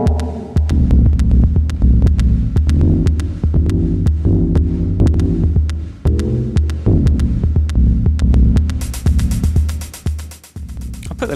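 A motor drives a homemade mechanical Eurorack modular sequencer, producing a loud, steady throbbing hum with sharp regular clicks and shifting tones throughout.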